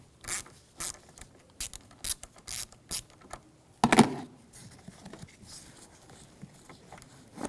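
A ratchet with a 10mm socket loosens the negative battery terminal on a 2011-2018 Volkswagen Jetta, giving short bursts of quick pawl clicks repeated several times close up, with one louder clunk midway.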